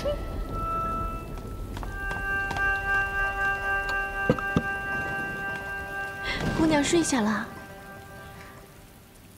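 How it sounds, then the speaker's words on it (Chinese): Rain falling at night inside a palace drama scene, a soft steady patter under a woman's quiet speech, with a sustained musical tone and brief louder vocal sound partway through. "这下雨了，天也黑了"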